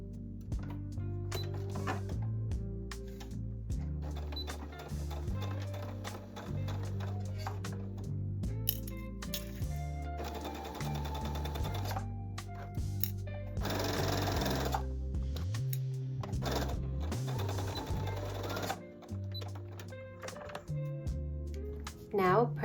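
A sewing machine runs a straight stitch along a scrunchie fabric edge in long, close mechanical whirring bursts with pauses, while a voice talks over it.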